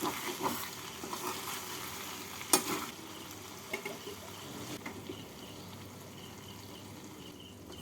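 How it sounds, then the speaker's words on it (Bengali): Bottle gourd for lau ghonto with hilsa fish head being stirred in a pan to dry off its water, a faint soft sizzle with occasional scraping clicks and bumps of the spoon. "নাড়াচাড়া করে লাউয়ের মধ্যে যে জলটা আছে সেই জলটাকে শুকিয়ে নেব"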